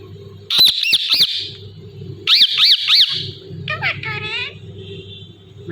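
A talking parrot utters repeated short, high, squawky syllables in bursts, followed by a wavering chirpy phrase, close and loud over a low background hum.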